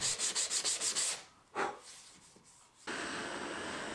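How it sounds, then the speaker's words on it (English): Rapid back-and-forth rasping strokes hand sanding a wooden cutting board, about ten quick rubs in a burst, then a pause, a single scrape, and a steadier close hiss. "A final bit of hand sanding and it looked okay."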